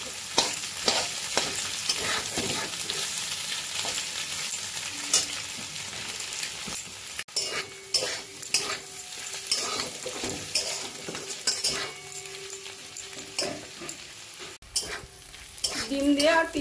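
Kudri vegetable and egg sizzle in a hot pan as a spatula stirs and scrapes in irregular bursts, a steady frying hiss beneath sharp metallic clinks, close and continuous.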